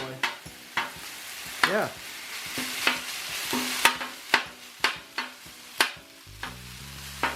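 Fried rice with lap cheong sausage and salt fries in a pan, a spatula scraping and clacking in a quick, uneven rhythm over a constant sizzle, with a brief murmur from a voice.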